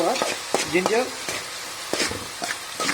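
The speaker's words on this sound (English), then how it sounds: "Now we stir all the ingredients together." A spatula scrapes and stirs chicken sausage fried rice with peas and ginger garlic paste in a frying pan, making a series of close, uneven scraping strokes over a soft sizzle.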